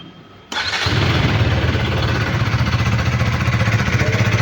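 A 2025 KTM 250 Adventure's 250cc single fires up after a moment of quiet, catching abruptly and settling straight into a loud, steady, pulsing idle close by.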